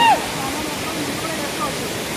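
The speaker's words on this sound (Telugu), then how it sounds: "ఈ వాటర్ ఫాల్స్ ఇంత బ్యూటిఫుల్ వాటర్ ఫాల్స్" The Mallanna Gandi waterfall in Janagam roars as a steady, dense rush of falling water, constant and fairly loud throughout.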